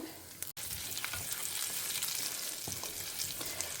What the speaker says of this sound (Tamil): எண்ணெய் காஞ்சிருக்கு கடுகு உளுத்தம்பருப்பு போட்டுண்டாச்சு